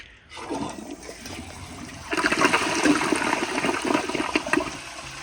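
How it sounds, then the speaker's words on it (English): A 2022 Kohler Highline round toilet flushes near and loud, with a quiet start that swells into a strong rushing, gurgling siphon surge lasting several seconds. "So here is another flush"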